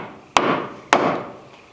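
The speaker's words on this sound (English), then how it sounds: "To hit a chisel against a piece of timber again?" Two sharp, loud hammer blows on a chisel driven into pine timber during timber framing, each a crisp wooden crack with a short ringing decay, spaced about half a second apart, alone with no talk.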